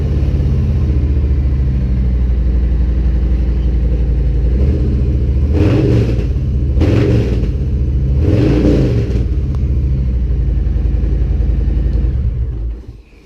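A 2022 Harley-Davidson Street Bob 114 motorcycle engine idles with a steady low rumble, then three sharp throttle blips swell and fall back at even intervals before the engine cuts off near the end; loud and close, no talk.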